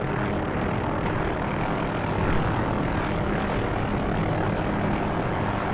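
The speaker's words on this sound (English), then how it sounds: "Increase the airspeed of the helicopter." A steady, loud rotor-and-engine drone of an OH-6A helicopter in the flight simulator DCS, droning continuously without pause, with a slight brightening after the first second or so.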